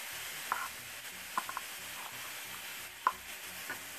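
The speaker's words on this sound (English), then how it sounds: "we're gonna saute this up a little bit" Garlic or onions sautéing in a pan, a faint, quiet sizzle broken by a few sharp clicks of a utensil against the pan, close and without speech.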